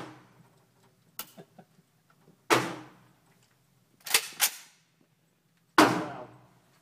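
An SKS rifle fired down range outdoors, with four loud, sharp reports, the middle pair in quick succession, each decaying with a ringing echo across the open range. Quiet pauses separate the shots.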